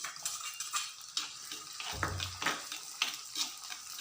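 Onions frying in a pan for a country chicken dish, a faint sizzle under frequent close clinks of a metal spoon against the pan, with a duller thump near the middle.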